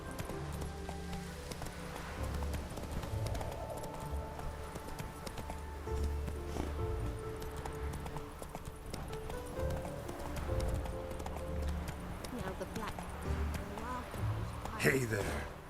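Horse hooves galloping in The Witcher 3, a steady rhythmic clip-clop running throughout at moderate level, with a voice speaking over it and a brief louder burst near the end.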